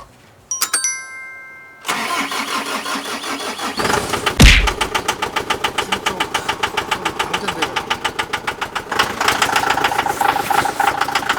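A Hyundai Mighty cargo truck engine starts up and settles into a steady, rhythmic idle, loud and close, with a brief thump partway through.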